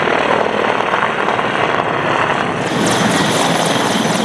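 A Russian Air Force Mi-35M multi-role attack helicopter flying, with a loud, dense, steady rotor and engine roar that fills the whole stretch without a break and no voices.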